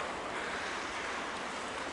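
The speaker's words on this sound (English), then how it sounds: "see all the water kicking up" Churning water rushes in a ferry's wake, a dense, steady roar of turbulent spray and foam heard close up without pause.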